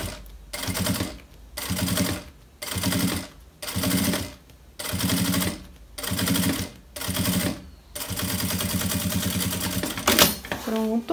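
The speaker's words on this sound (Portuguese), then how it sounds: "eu vou costurar aqui o fundo do meu bolso, ó. Faço o retrocesso e passo aqui uma costura." A sewing machine stitches the bottom of a bag pocket with a backstitch, running in seven short, rhythmic bursts separated by pauses, then one longer continuous run.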